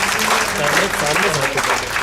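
An audience at an international conference in India applauds scientists after a soft moon landing: a steady, dense wash of clapping fills the whole stretch, with voices audible underneath.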